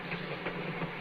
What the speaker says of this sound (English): I can't stop the train.